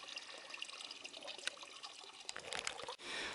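Water trickles and splashes steadily at a trail shelter's water supply on the Tuscarora Trail in Pennsylvania, a close, continuous bright babble with no talking.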